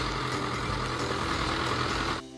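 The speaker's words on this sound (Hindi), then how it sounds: "ये देखो बच्चों, ये है ट्रैक्टर।" Tractor engine running steadily at close range, a dense continuous rumble that cuts off abruptly near the end.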